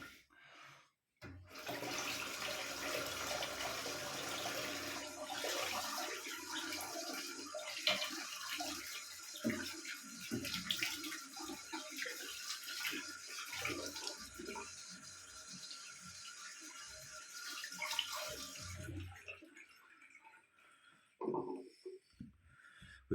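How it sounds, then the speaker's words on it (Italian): Running tap water splashing steadily while someone rinses their face, a continuous close wash for most of the stretch before the flow stops and a few drips and faint handling sounds follow. "Vado a sciacquare il viso."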